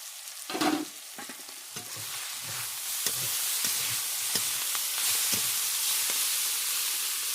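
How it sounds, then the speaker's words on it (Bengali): Fenugreek greens fry in a pan with a loud, close sizzle, broken by repeated scraping strokes of a spatula stirring the leaves at an irregular pace. "দেখুন আমার মেথির শাক ভেজে নেওয়া হয়ে গেছে"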